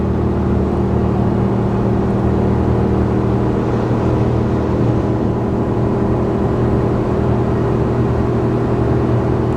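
A Ford F350 with a 7.3L gas V8 tows a load uphill at wide open throttle, a loud, steady engine drone with a constant low hum and road roar, unbroken throughout.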